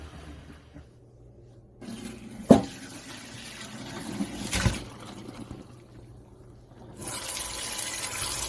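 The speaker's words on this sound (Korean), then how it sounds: "이렇게 차가운 물에 여러 번 헹궈준 다음에" Blanched young cabbage rinsed in cold water, running water and swishing with a couple of sharp knocks, then water flow swells louder near the end.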